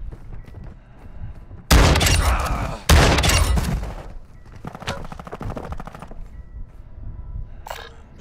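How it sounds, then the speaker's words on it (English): Heavy automatic gunfire from Call of Duty, two loud close bursts of rapid shots followed by lighter scattered firing, with speech and game sounds around them. "You are taking effective fire."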